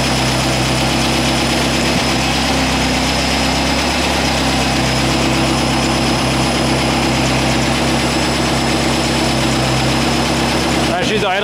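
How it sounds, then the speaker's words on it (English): An air-cooled Volkswagen engine with a Solex H30/31 PICT carburetor idles steadily and loudly for the whole stretch, a constant low rumble with a faint voice underneath. "She's idling pretty good."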